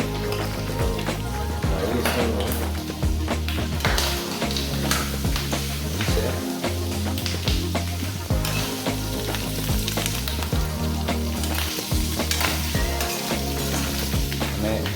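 Food sizzling and frying in hot oil while a spoon stirs it, a loud, dense, continuous crackle with frequent scraping strokes against the pan, close by.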